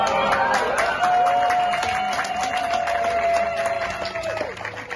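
A crowd applauds someone's birthday with continuous, dense clapping close by, mixed with a few scattered voices, then gradually tapering off.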